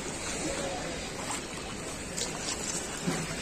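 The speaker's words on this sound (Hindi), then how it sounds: "देखिए कैसे सीढ़ियों से टकरा के पानी वापस जा रहा है।" Floodwater of the Ganges at Varanasi splashes against the ghat steps, a continuous broadband wash of surging water with occasional louder slaps, close and steady.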